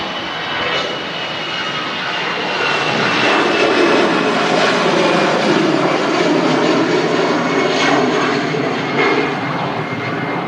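A Boeing 747 jet at Manchester Airport produces a loud, sustained engine roar that swells and holds for about ten seconds, steady and broad with no talk over it.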